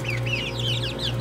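Healthy adult chickens on a rural Canadian homestead cluck in a steady run of short, repeated calls, fairly close and moderately loud over a constant low background hum.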